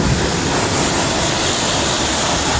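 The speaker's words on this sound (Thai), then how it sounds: "ใช้แรงดันสูงมากในการฉีดล้างรถ" A high-pressure water jet sprays while washing a car, making a loud, steady, broadband hiss that runs unbroken throughout, close to the microphone and without speech.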